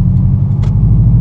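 A 2014 Subaru WRX engine roars loud and close under hard acceleration, a dense continuous rumble with no voices.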